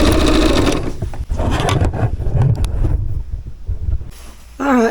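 A sewing machine whirs through quilt strips for a sweatshirt sleeve, a brief burst at the start followed by handling clatter and rustling, then another short run at the close.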